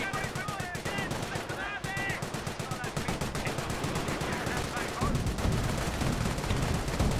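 Sustained battle fire in the World War II strategy game Company of Heroes, with rapid machine-gun bursts and rifle shots crackling continuously at close range, building slightly louder toward the end.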